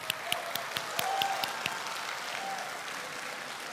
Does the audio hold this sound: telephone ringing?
no